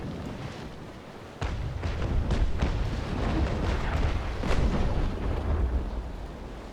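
Sailing-frigate cannons firing broadsides in the naval combat game Naval Action: a run of heavy, fairly close booms over a rumbling battle background, with no talking.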